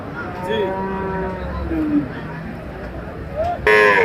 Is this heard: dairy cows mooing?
yes